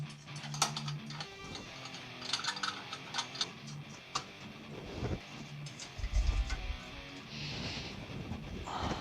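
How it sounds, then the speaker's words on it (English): A ratchet snugs down the bolts on motorcycle engine cases, giving quick bursts of close, crisp clicking separated by short pauses and light metal handling, with no talking. "I'm just going to snug them down."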